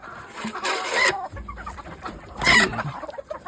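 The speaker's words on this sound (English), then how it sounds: "These are the fowl that roost where they please." Yard fowl chickens cluck in a wintry yard, with two louder bursts of squawking over a steady background of close, scattered clucks and murmurs from the flock.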